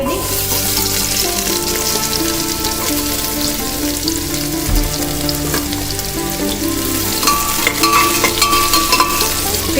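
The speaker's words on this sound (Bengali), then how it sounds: "এবার একটু পেঁয়াজ দিয়ে দিই।" Onions fry in hot oil in a pan with a loud, continuous crackling sizzle, broken by occasional scraping stirs throughout.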